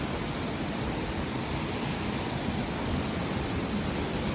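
Katteri waterfall near Ooty pours in a dense, unbroken hiss of rushing water that stays close and even throughout, with no voices.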